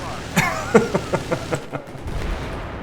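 Full-auto gunfire in Battlefield 4, a quick string of sharp shots that fades out and leaves a low rumbling background.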